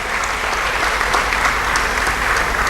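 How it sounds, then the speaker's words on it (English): An audience at a research meeting gives a round of applause for the chair of a board of trustees: dense, steady clapping that stays loud throughout. "Shall we give him a round of applause?"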